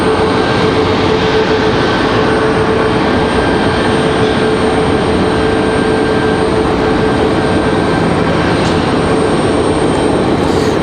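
An Icelandair airliner taxiing to the gate at Raleigh-Durham airport, its engines producing a loud, steady broadband roar with a sustained whine that holds evenly throughout.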